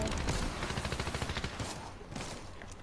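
Rapid bursts of Fortnite gunfire rattle in quick succession for a couple of seconds, then ease off into a lower rumble.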